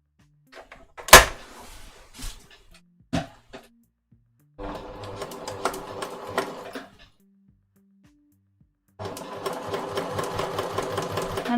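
A sewing machine stitches a pin-tuck shirt seam in two steady runs of rapid rhythmic needle clatter, close and clear, preceded by a few sharp clicks and handling knocks in a quiet room.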